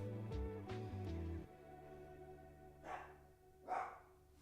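A dog barks several times in a quick cluster of rough barks, then two further isolated barks follow after a pause, moderately near against a quiet background.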